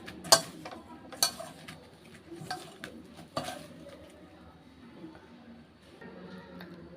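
Ground semiya is being mixed with powdered sugar in a bowl, giving soft scraping stirs with a few sharp clinks of a spoon against the bowl, quiet and close, with an irregular rhythm.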